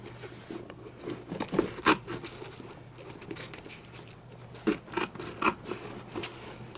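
Scissors snip through fabric for an Acura TL door panel insert on a 2004–2008 model, a series of close, crisp cuts with soft rustling and rubbing between them, with no one talking.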